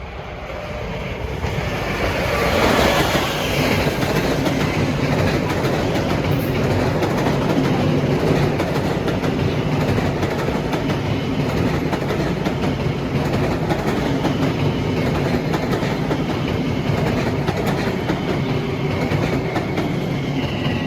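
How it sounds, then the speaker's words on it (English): A Long Island Rail Road train, number 1955 from Ronkonkoma to Penn Station, rushes past on the Main Line with a loud, sustained roar and rattle of cars, wind buffeting the microphone throughout. "here comes train 1955, Ronkonkoma to Penn Station"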